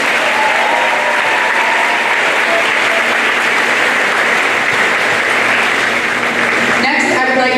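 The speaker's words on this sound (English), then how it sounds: "Please help me congratulate these students with a round of applause." Sustained applause from a school graduation audience honoring 2025 award-winning students, loud and steady throughout with a dense crowd wash, briefly shifting near the end.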